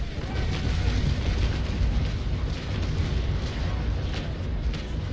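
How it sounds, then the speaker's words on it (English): Heavy, continuous booming carronade cannon broadside in the naval video game Naval Action, dense overlapping blasts forming a loud sustained rumble. "So, we are coming up on Gregor Bryant and we are packing Carronades here. So, and fire"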